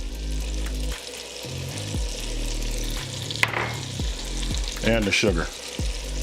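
Potatoes fry in hot grease with garlic and onion, a steady close sizzle broken by rhythmic scraping stir strokes, with a brief spoken remark over the top.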